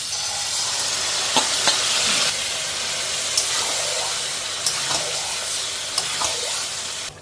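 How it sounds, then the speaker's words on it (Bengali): Chopped onion frying in hot oil in a home kitchen pan for a goat meat curry, a steady hiss that fills the whole stretch, with a few soft clicks of utensils on the pan. "পেঁয়াজটা দিয়ে দিলাম, এক্ষুনি পেঁয়াজটা সুন্দর ভাজা হয়ে যাবে তেলের সাথে।"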